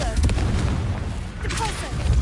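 A Confringo fire spell blasts and bursts in Hogwarts Legacy, a booming explosion amid game sounds with a voice speaking over parts of it.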